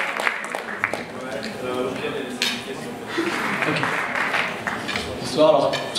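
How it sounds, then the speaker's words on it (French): Applause from an audience in a lecture hall during a student battle event, moderate clapping mixed with voices and some chuckling. "j'aimerais qu'on les applaudisse bien fort"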